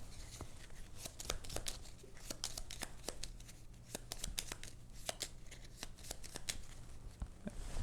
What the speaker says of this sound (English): We shuffle all our cards back up